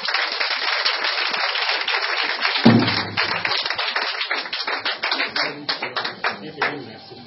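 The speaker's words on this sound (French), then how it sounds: "Est-ce qu'on peut acclamer Jésus?" Audience clapping at a religious gathering to acclaim Jesus: steady, dense applause from a crowd, continuous for several seconds with a brief heavier burst midway, fairly close and loud.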